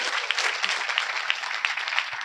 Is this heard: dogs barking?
no